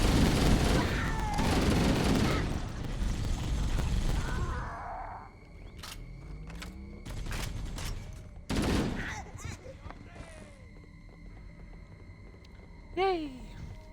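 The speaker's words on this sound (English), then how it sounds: "I'm gonna start doing some shooting" Bursts of gunfire in the video game Halo Combat Evolved, rapid fusillades and scattered single shots amid game effects, with voices talking at moments.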